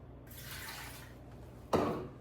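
Water pours steadily into a pot holding eggs, a hissing stream that briefly grows louder and splashier near the end.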